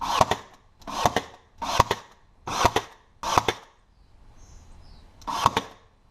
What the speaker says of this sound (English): I'm going to shoot some brad nails in to hold it on the top.